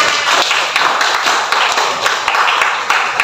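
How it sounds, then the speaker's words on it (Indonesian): Students clap together in a classroom, giving fairly loud, close applause with a loose rhythmic pulse throughout. "Kita beri tepuk tangan semuanya."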